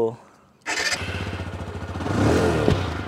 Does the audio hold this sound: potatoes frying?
no